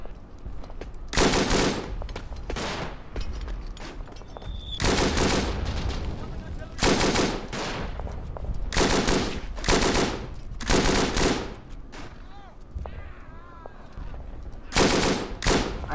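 Machine gun fire in the World War I shooter game Verdun: loud, close bursts of rapid automatic shots repeat roughly every second or two across the clip, separated by short lulls of quieter battlefield noise.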